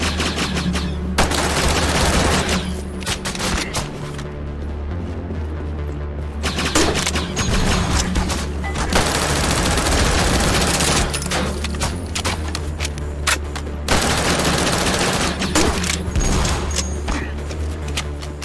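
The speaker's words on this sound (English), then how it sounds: "energy weapons and explosives will indeed blow your foes into bloody pieces" Energy weapons fire and explosions blast in a Black Mesa game mod, a loud, dense stretch of shots, zaps and booms with near-constant impacts and only a brief lull partway through.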